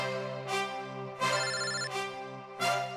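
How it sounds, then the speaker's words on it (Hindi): A phone ringtone rings in repeated melodic bursts, a steady electronic tone with regular pulses, clear and close with no voices. "यहाँ पे किसका फोन बज रहा है?"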